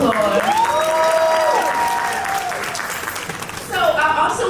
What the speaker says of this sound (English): Let's give Dr. Rob another round of applause.